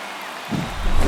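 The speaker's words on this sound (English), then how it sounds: "This crowd is on fire right now. They're going nuts thanks to that home run." A baseball stadium crowd roars after a home run. The dense wall of cheering noise swells suddenly halfway through and keeps building, loud and unbroken.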